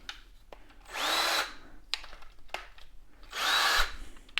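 A Ryobi P271 cordless drill runs in two short whirring bursts while its bit is tightened, each followed by clicks and handling noise, close up with no talk.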